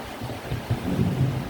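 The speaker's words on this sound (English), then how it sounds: "Wow, listen to that thunderstorm," A thunderstorm heard from indoors: a low, continuous rumble of thunder rolling and swelling over rain, fairly loud and sustained, with no voices.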